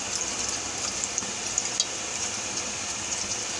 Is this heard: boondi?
yes